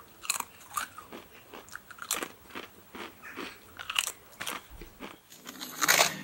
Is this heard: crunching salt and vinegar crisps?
yes